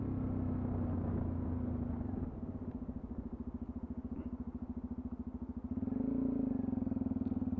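Sinnis Terrain 125 single-cylinder motorcycle engine, 2020 model, running steadily while riding, a loud close rumble with a fast pulsing beat that swells and rises in pitch toward the end as the throttle opens.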